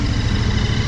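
A Royal Enfield motorcycle engine idles steadily with a low, even rumble throughout, close and continuous.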